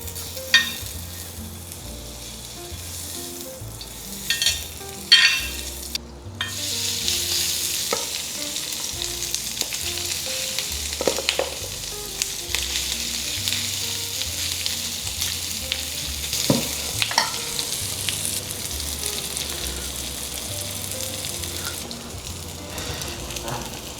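Pork sisig fries in butter in a hot pan, with a steady crackling sizzle throughout and repeated scraping and clanking as it is stirred, close up and with no talking.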